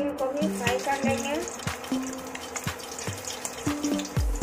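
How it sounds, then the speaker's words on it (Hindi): Soybean chunks fry in hot oil in a pan with a continuous sizzling crackle, while spoon taps and stirring clicks land at a steady rhythm close by. "अब इसी तेल में सोयाबीन को भी फ्राई कर लेंगे।"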